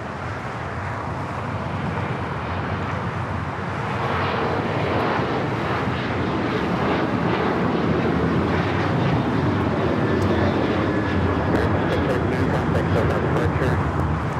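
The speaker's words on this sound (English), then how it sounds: "That A321 coming in from Dallas." An Airbus A321 airliner arriving at Los Angeles LAX from Dallas makes a steady, loud broadband engine roar that builds and holds throughout, with a voice talking faintly under it.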